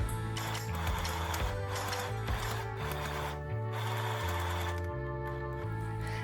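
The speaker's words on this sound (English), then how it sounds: "now we're just going to sew right where we have it pinned." Sewing machine stitching a pinned fabric headband with an elastic section, a close, steady mechanical hum that keeps shifting in speed and pausing briefly between runs, with no talking.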